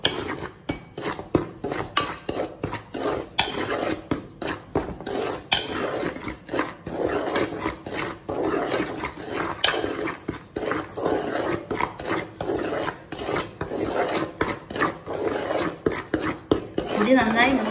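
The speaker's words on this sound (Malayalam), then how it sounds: "ഇത് നന്നായി മൂക്കുന്ന വരെ ഇളക്കി വറുത്തെടുക്കാം" A spoon scrapes and knocks steadily against a heavy pan as green gram flour is stirred and roasted, close, irregular clinks and scrapes repeating throughout with no talk.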